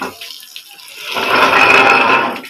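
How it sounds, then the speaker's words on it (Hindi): Water sprays under pressure from a short hose pipe during general cleaning of a dirty home, a steady hissing splash that swells and holds for a couple of seconds, close and fairly loud. "पाइप छोटा लगा हुआ है, मम्मा प्रेशर मार रही है"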